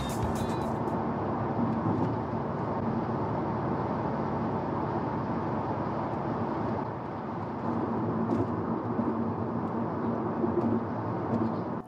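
A car driving on a dual carriageway, heard from inside as a steady, loud broadband road and engine rumble with tyre roar that holds constant throughout, with no talk.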